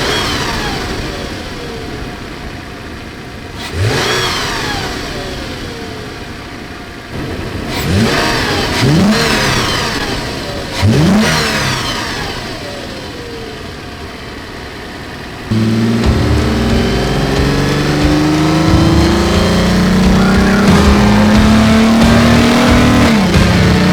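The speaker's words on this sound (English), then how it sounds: "let's take it outside, fire it up, do some revs, take it up and down the road a couple times" A 2010–2022 Toyota 4Runner fitted with a TRD intake, its engine revved hard several times with rising roars and falling settles, then a sustained loud engine drone as the SUV drives off along the road.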